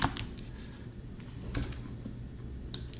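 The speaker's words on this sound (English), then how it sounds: "My typing is terrible" Someone types on a computer keyboard nearby, tapping keys in quick, uneven bursts with small pauses between them. The clicks are light and fairly quiet over a soft room hum.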